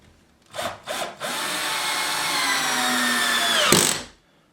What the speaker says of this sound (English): I'll go ahead and install my other screws